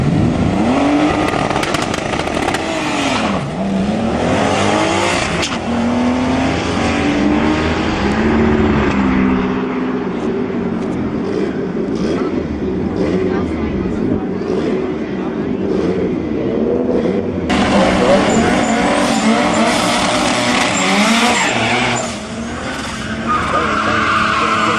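A red BMW race car makes a single run at Tarlton Raceway, its loud engine roaring and tires squealing close by, with an announcer's voice heard over the din.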